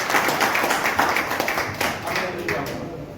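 Audience applause at a Vaishya community function, a fairly close patter of many hands clapping at a steady pace that fades slightly toward the end.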